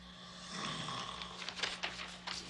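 A slow, rasping snore rumbles close by, with a heavy breathy intake and a few snorting bursts toward the end.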